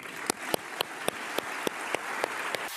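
French Parliament members applaud Ukrainian President Zelensky as a crowd, with steady dense clapping and sharp rhythmic claps standing out about every quarter second, loud and close, with no talk.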